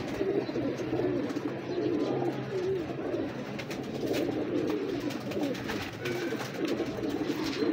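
Several pigeons coo in soft, overlapping throaty rolls, steady and close, with no voices over them.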